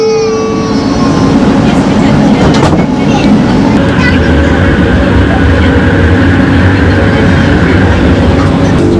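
A Malaysian metro train rolling along with a steady loud rumble and rattling wheels, a high whine fading early, heard from inside a crowded carriage.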